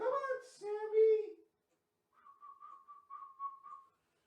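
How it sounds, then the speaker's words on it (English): A person whistles a wavering, steady tone to call a cat named Sammy; a short burst of talk comes first, then a few seconds of silence before the whistle, which is moderately loud and close. "Can you whistle to get a cat to you?"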